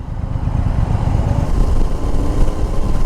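Triumph Tiger Sport 800 motorcycle being ridden, a steady low engine rumble mixed with wind rush, loud and continuous throughout with no one talking.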